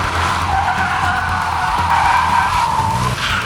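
Tires of a Citroën DS3 Racing squeal and skid under braking as the rear end slides with stability control switched off, a loud, continuous close-up screech lasting throughout with car noise underneath.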